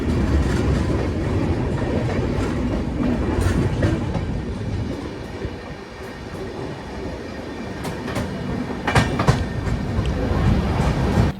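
A passenger train between Ringas and Ajmer overtakes a goods train, with a steady rumble and clickety-clack of wheels on rails, loud and continuous with a few sharper metallic clanks.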